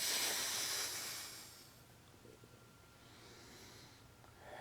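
A slow, airy exhale through pursed lips during a Tai Chi breathing exercise, breathy and close at first, then fading into a quieter hiss.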